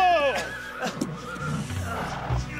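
A horse gives a loud, close neigh with a falling whinny, followed by snorting and movement sounds, with voices underneath.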